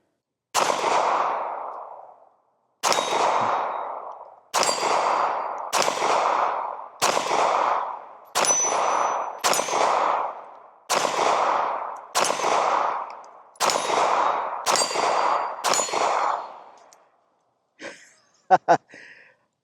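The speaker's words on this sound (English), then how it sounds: "Let's see if we can hit all the steel targets here about 10 yards." Eleven sharp reports from a Ruger LCP MAX pistol fired at steel targets about 10 yards off, each crack spaced roughly a second or two apart, followed by a brief cluster of faint metallic ticks.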